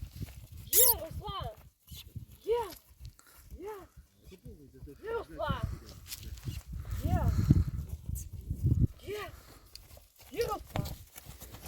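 A mare and a stallion plod along with steady clip-clop hoofbeats while people talk nearby, and a horse snorts or nickers at times.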